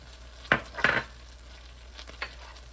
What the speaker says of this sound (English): We'll add our minced garlic.